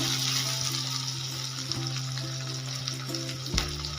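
Capsicum and other vegetables frying in a pan for Maggi, a loud close steady sizzle with occasional stirring clinks and scrapes, no talk.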